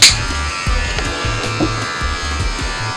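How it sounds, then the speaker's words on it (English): A cordless hair trimmer buzzes steadily at close range through a haircut and hair design, a constant electric hum with a sharp start and light rhythmic pulsing as it moves, with no talking. "So I also have cordless trimmers."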